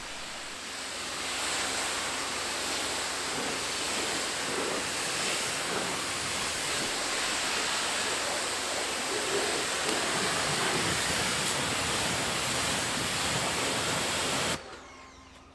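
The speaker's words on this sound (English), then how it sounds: "Using a pressure washer is a night and day versus a garden hose" Continuous broadband hiss of a pressure washer spraying water over a car's paint from a safe distance, loud and unbroken for about fourteen seconds before dropping off abruptly.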